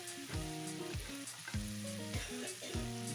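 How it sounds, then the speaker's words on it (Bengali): Bhola fish curry frying and being stirred in a pan, a steady close sizzle with repeated scraping strokes of the spoon against the pan. "ভালো করে নাড়াচাড়া করতে থাকছি।"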